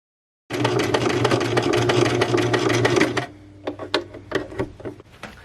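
A sewing machine stitches the main seam of a Christmas stocking through thick layers of fabric, running a fast, steady loud whir for about three seconds, then slowing into a few separate stitch thumps, close up.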